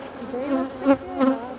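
Honeybees from a colony being split buzz close by in a steady, wavering drone, swelling twice as individual bees pass near, with no speech over it.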